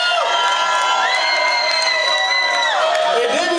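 A crowd at a Damage Inc club show cheers and whoops loudly as guitarist Dave Gold comes on stage. Sustained shouting and whistles carry on throughout.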